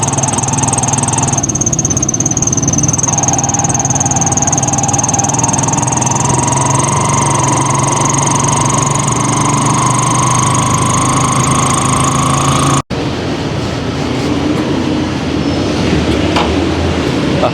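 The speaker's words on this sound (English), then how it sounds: "If you can hear me, it's very noisy, very cozy in this tricycle." A motorized tricycle rides through Roxas City, Philippines, its engine droning loud and constant with a high whine and rattling, close and enveloping; the tone shifts abruptly near the end as travel continues.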